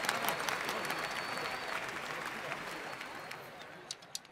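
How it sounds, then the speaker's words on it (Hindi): Sustained applause from a crowd, loud at first and gradually thinning out, with a few scattered claps near the end. "जोरदार तालियों से उनका स्वागत करें।"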